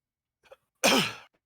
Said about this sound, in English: Bit of a cough myself I'm working through.